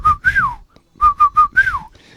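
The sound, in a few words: imitated whistling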